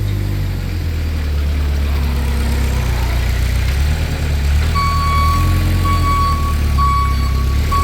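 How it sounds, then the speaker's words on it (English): A 2014 Moffett M55 truck-mounted forklift idles with a low diesel rumble, then its reversing backup alarm joins in with a steady, repeating high beep over the engine. "You can see you got your backup alarm."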